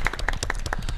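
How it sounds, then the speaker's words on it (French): A few people clap in a short, uneven burst of separate claps at a French car-show studio event, fairly close and without talk over it. "on l'applaudit"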